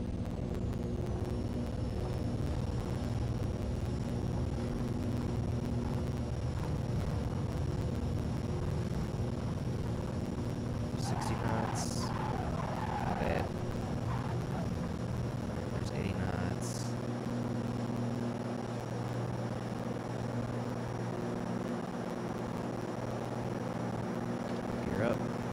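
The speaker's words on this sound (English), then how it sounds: "listen to that turbo spool" Turbocharged engine of a Piper Turbo Arrow IV in X-Plane 11 builds to a steady, loud drone as the turbo spools, with a higher whine rising over it; someone talks over the engine.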